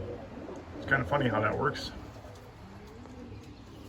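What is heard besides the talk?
pigeons cooing in a loft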